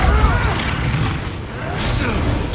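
A Depulso spell cast in Hogwarts Legacy lands as a loud booming blast with a crashing, rumbling tail, set among busy combat noise and a voice speaking through it.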